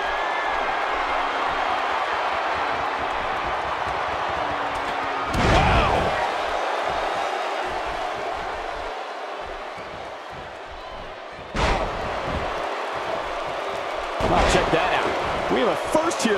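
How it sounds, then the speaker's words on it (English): Heavy elbow-strike slams in the wrestling video game WWE 2K17 during a Raw title match with Finn Balor hit three times over steady arena crowd noise, while commentary voices talk throughout. "that elbow will knock you silly"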